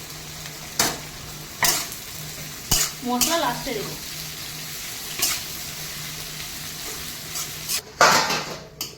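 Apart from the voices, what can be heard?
ridge gourd with onions frying and being stirred in pan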